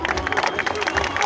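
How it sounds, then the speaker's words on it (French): Crowd at an air show applauding a Harley stunt rider from Rennes, a dense, steady wash of clapping with crowd murmur throughout. "J'aimerais qu'on applaudisse très fort Jérémy Perrudin."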